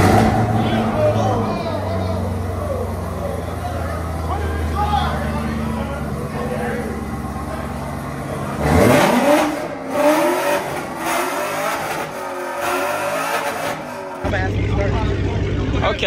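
An old-school Chevy ZL1 engine at an outdoor car show idles with a deep rumble, then revs hard in rising roars midway, with people talking and cheering loudly nearby.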